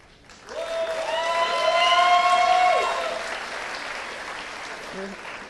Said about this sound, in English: Another noisy crowd